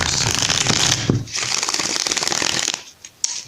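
Rapid riffling of tarot cards, close and crisp, in a couple of quick bursts separated by a brief pause.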